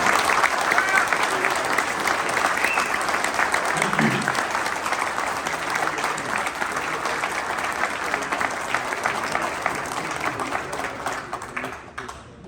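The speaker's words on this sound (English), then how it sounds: "Let's give them a round of applause before we resume activities" Steady applause from a crowd at a Vietnam veterans ceremony: dense, continuous clapping that holds at an even level for about twelve seconds before tapering off at the end.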